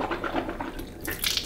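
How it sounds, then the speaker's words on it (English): A child gargles water after brushing teeth at a bathroom sink, producing a short, close, wet bubbling and sloshing that swells toward the end, with no talking. "Okay, now let's gargle."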